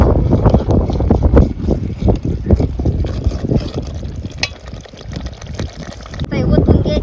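Cooked mutton curry, a Kolhapuri red rassa, is poured out, giving loud splashing, gurgling liquid sounds with wet clatter throughout, close by.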